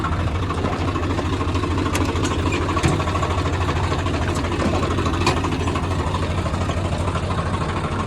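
A tractor engine idles steadily with a constant low rumble and clatter, and faint sharp ticks rise above it now and then.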